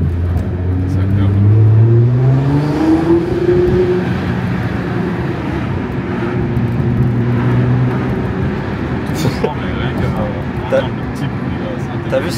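Nissan GT-R R35 driven gently through town, its engine a steady low drone with rising and falling harmonics as it revs and eases off, running continuously under nearby talking.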